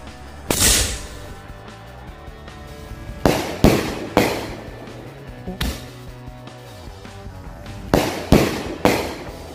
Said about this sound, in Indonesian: Yang pertama kita nyalakan mercon bola launcher yang 3 kali bunyi.